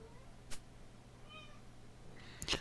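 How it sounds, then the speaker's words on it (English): A house cat meows twice in the background, one faint brief cry early and a louder, sharper call near the end, over the quiet hum of a room. "As my cat starts yelling at me."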